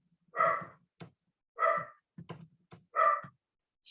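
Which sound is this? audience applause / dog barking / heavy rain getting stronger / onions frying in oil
dog barking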